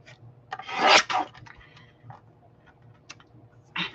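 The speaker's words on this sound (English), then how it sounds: "I'm just going to cut like a 3/4 inch strip" Scissors or a cutter slice a 3/4 inch strip from scrap black paper. Close, raspy cutting strokes come in a burst around the first second, then softer scrapes and small clicks, with a final short rasp near the end.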